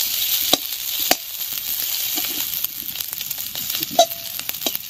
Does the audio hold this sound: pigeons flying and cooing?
no